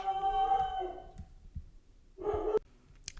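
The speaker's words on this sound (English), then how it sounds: "my dog started barking again" A dog barks a few times at moderate distance, short sharp yelps separated by quiet gaps, with no talking.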